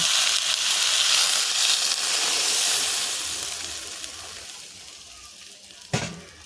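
Water poured into a hot pan of frying snakehead fish with bottle gourd, a loud sizzling hiss that slowly fades as it settles, ending with a brief clatter close by.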